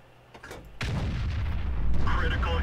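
A tank cannon in World of Tanks fires with a sudden loud boom, followed by a sustained low rumbling roar and clattering effects, with faint background sounds before the shot.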